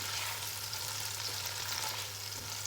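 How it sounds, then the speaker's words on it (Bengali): Onions and bay leaves frying in leftover oil from a chicken roast, a soft, even, continuous sizzle at moderate distance with a low steady hum beneath. "এখন রোস্টের ভাজা যে তেল, ওইখানেই আমি তোমার পেঁয়াজগুলো দিয়ে দিব আর কি"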